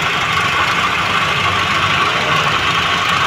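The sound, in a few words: 1998 Nissan Sentra engine idling after camshaft replacement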